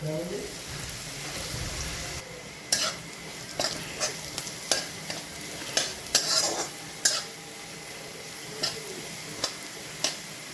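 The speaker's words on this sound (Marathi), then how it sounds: "तेल गरम झालं की जिरा टाकायचं" Cumin seeds sizzle in hot oil with a steady crackling hiss, broken by sharp ticks and taps as a spoon stirs the pan.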